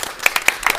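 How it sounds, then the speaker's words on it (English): Audience clapping at a panel session at the COP26 Korea Pavilion, a handful of sharp, separate claps in a brief burst rather than a full roar. "Round of applause."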